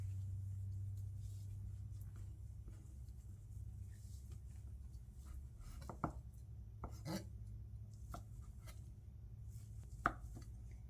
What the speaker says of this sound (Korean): 달걀 지단 썰어 볼 건데요.